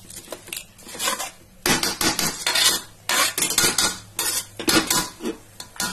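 Metal spoon scraping and clattering against a pot while masala rice with peas and soybeans is stirred, in repeated bursts of close, bright scraping with short pauses, faint sizzle beneath, no talk.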